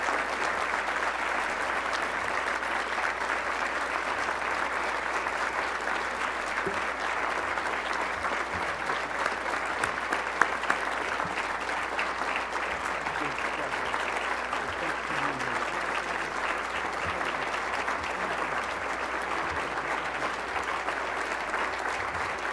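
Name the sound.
audience applause at awards ceremony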